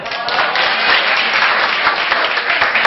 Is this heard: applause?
yes